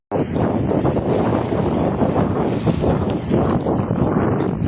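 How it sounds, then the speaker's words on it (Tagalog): Strong wind gusts outdoors by the sea on a fishing outing in Oman, a loud continuous rushing roar buffeting the microphone from start to finish, with no voices. "ngayon mahangin sa labas"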